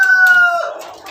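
An Australorp rooster on a Pakistani poultry farm crows loudly and close by, with a long, bright call trailing off into lower clucking from the flock.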